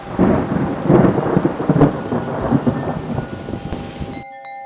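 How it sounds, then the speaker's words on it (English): Thunder from a lightning bolt during a rainstorm, a loud rolling rumble over steady rain that cuts off abruptly near the end. "Lightning bolt, too."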